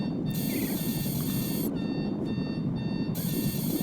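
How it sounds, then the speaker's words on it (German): Alarm clock rings with a steady high electronic tone that starts, stops and starts again, over a constant noisy background. "Jetzt muss ich kurz meinen Wecker ausmachen, weil der klingelt bis hier"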